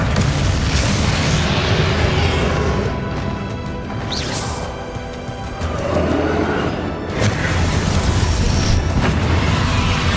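Spell explosions from Bombarda and similar spells in the Hogwarts Legacy video game: loud, booming crashes and blasts follow in quick succession, with rumbling debris and game effects between the hits.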